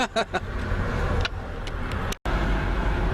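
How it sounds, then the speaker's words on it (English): Cars drive past outdoors near a steak cookout: loud engine and tyre noise swells and fades in a few passes, with a brief sharp drop partway through. "Oh, the cars are coming through."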